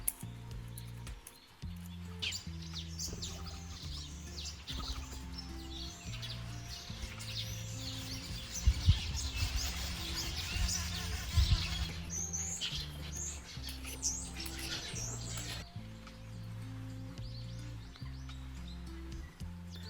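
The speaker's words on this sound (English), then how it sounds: "can you listen to these birds? Starlings and weavers we've got over here." Starlings and weavers chirp and sing outdoors in South Africa, a faint, busy chorus of calls that swells in the middle and continues steadily throughout.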